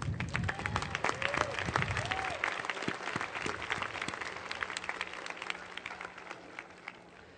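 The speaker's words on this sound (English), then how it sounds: "Please join me in a round of applause to thank these donors." Crowd applause at a 2010 college commencement ceremony thanking scholarship donors, a full sustained round of many hands clapping in a large hall, with a few voices and whoops mixed in early before it gradually thins.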